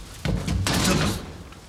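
An apartment door is flung open abruptly by someone rushing in, making a loud, close thump followed by a second heavy knock and a fading rattle.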